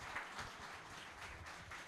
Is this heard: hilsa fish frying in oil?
no